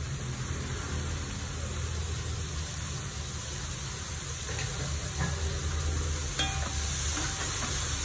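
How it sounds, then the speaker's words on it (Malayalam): Chopped brahmi leaves stir-frying in a pan, a continuous close sizzle and hiss with occasional soft utensil scrapes, steady throughout and no voices. "ഇനി ബ്രഹ്മി അരിഞ്ഞ് വെച്ചത് ഇട്ട് കൊടുക്കാം."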